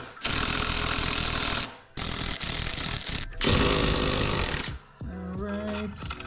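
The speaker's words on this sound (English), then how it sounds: "All right, four 15 millimeter nuts coming off right now." A power tool, likely an impact gun, loosens four 15 mm nuts during a strut tower brace install on a Ford Mustang, rattling loudly in long sustained bursts with brief gaps, ending in a shorter, differently pitched whirring stretch.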